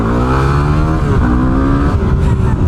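A Yamaha WR250R motorcycle engine revs hard and close, a buzzing single-cylinder note rising in pitch, settling briefly, then climbing again before easing off near the end, with nobody talking.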